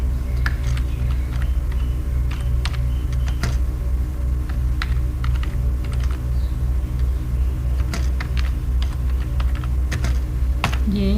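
Rapid clicking on a computer keyboard as a sheet name is typed into Microsoft Excel, with close, steady keystrokes in quick bursts over a constant low hum.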